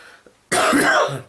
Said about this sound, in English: talking is making me cough so much